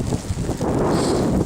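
Strong gusting wind during a blizzard, a loud, roaring rush buffeting the microphone close up, steady and unbroken for the full second and a half with no voices.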